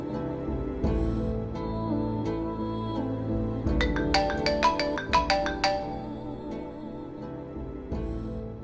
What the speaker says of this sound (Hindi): माँ का फोन है, उठा लो